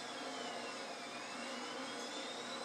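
An RC airplane's engine in the RealFlight 6.5 flight simulator game roars fast and steady, a continuous high whine and rush at constant loudness with no talking.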